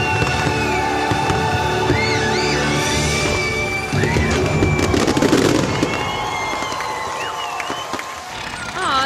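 Loud fireworks fill the air with whistling rockets rising and sweeping in pitch, mixed with popping bursts and a continuous crackle throughout.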